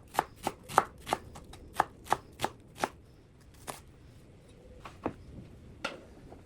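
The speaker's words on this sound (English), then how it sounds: "Next, I'm gonna cut up these little red potatoes" A knife chops little red potatoes into chunks on a cutting board, a quick run of about ten crisp close knocks, then a pause and a few more scattered cuts.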